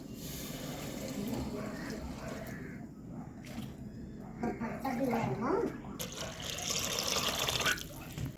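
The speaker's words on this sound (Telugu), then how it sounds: "రెండు చెమ్ములు నీళ్ళు అయితే వేస్తాను" Water pours and splashes into a pot of rice in bursts, with a steady liquid rush mixed with clinks and kitchen noise at close range.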